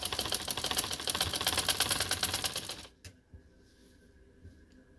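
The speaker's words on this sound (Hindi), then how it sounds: "मैं अब यहाँ मशीन से ही सिलाई दे रही हूँ" A sewing machine stitches a cutwork scallop dupatta with a fast, even rhythmic clatter for about three seconds, then stops abruptly, leaving faint quiet handling noises.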